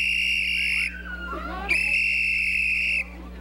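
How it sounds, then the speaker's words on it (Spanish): Residents of Santa Mónica, Santa Tecla blow shrill alert whistles: two long, loud, steady blasts separated by a short pause, with faint voices and background murmur in the gap. "con estos silbatos se alertan entre sí"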